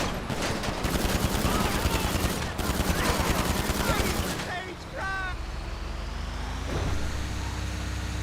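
Rapid bursts of AP pistol fire in GTA 5 Online, dense repeated shots for about four seconds with a brief gap, then giving way to quieter game sounds and a vehicle hum.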